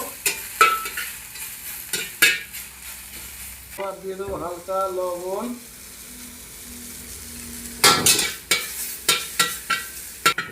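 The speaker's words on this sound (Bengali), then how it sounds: "ফুলটাকে একটু নাড়াচাড়া করে ভেজে নেব।" Pumpkin flowers fry with white cumin in a pan, giving a steady sizzle and repeated scraping stirring strokes. A person speaks briefly in the middle.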